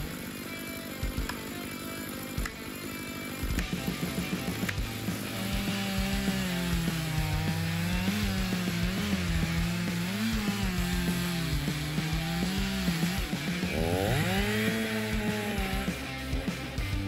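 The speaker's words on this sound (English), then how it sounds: "a worker cutting down a maple tree with a style MS-881 chainsaw" A Stihl MS-881 chainsaw cuts down a maple tree, its engine snarling loudly and continuously with rising and falling revs as the chain bites into the wood.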